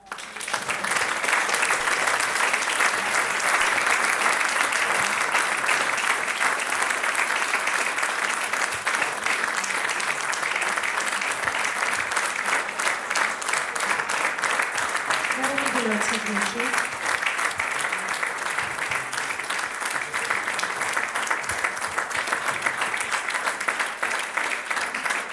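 A sustained round of audience applause fills a hall at a book presentation for Nushik Mikayelyan's books, steady and dense from start to end, with a faint voice briefly surfacing midway.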